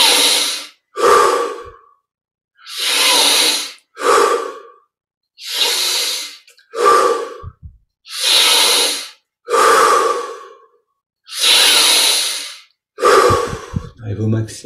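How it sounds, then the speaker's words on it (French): Deep, forceful breaths during a guided meditation, with about eight loud inhale-exhale cycles, each a strong rushing breath of roughly a second, spaced evenly with brief silent gaps. "Augmente progressivement l'amplitude des respirations."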